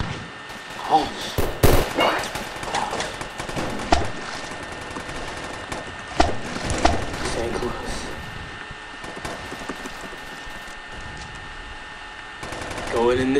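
Weapon fire in the video game Boring Man, a burst of sharp gunshots followed by scattered single shots and clatter, loud and close, with quieter stretches between.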